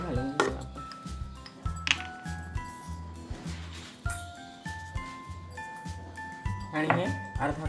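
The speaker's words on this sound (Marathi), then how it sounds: "आणि हे अर्धा कप दही हे चांगलं फेटून घेते" Half a cup of yogurt (curd) whisked in a bowl for instant fasting-day dhokla, giving quick repeated clinks and scrapes of the utensil against the bowl in an uneven rhythm, close and moderately loud under a voice talking.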